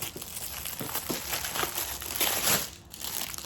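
Plastic wrapping crinkles and rustles up close as it is pulled off a small lunchbox-like item, a continuous dry crackling with uneven bursts and no talking.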